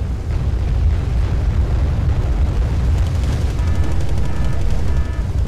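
Artillery fire for effect in the video game Wargame AirLand Battle, a dense continuous roar of booming blasts and rumbling impacts, loud and unbroken throughout.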